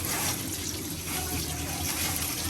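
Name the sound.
washing pulao rice in water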